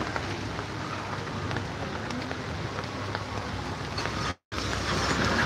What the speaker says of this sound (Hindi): बारिश का तेज बूंदाबांदी है